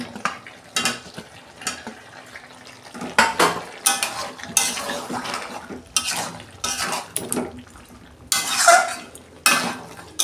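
Potatoes go into a pot of chicken curry and are stirred, a close, irregular run of metal spoon clatter and scraping against the pot over a soft sizzle, loudest in bursts near the end, with no talk.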